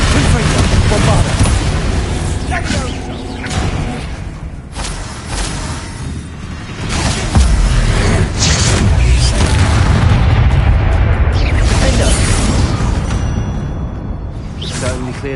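Confringo and Bombarda spells detonate in Hogwarts Legacy, a video game, as repeated loud booms and whooshing blasts over continuous combat noise and battle music.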